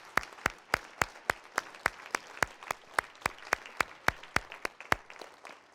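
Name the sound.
congregation clapping hands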